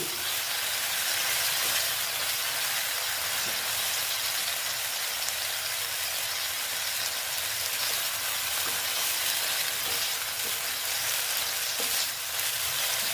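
Banana flower curry mixed with coconut sizzles loudly in a frying pan, a dense continuous hiss with faint stirring scrapes under it and no talking.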